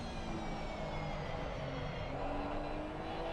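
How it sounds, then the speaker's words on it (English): Porsche GT3 Cup race car engine in a racing game at the Nürburgring, a steady loud drone that builds gradually as the throttle is applied smoothly, with no talk over it. "You can hear that engine pick up so slowly"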